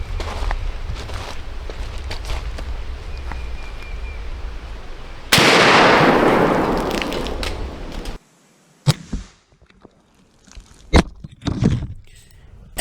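A Marlin 1894 Cowboy Limited lever-action rifle in .44 Magnum fires outdoors at a range, with a sharp, loud report and a long rolling echo, followed by scattered clicks and handling noises.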